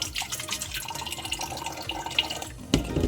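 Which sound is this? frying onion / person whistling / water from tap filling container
water from tap filling container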